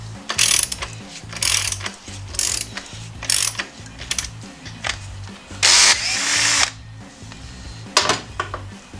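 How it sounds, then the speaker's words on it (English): A ratchet works loose the lower shock absorber bolt on a BMW R1200 motorcycle, rapid clicking bursts repeating close by with short pauses between strokes, and no talking. "now we're going to remove the shock bolt on the lower end of the shock absorber"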